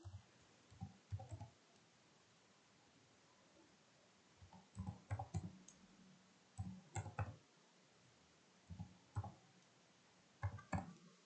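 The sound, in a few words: typing numbers on a computer keyboard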